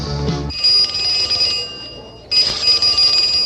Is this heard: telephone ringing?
yes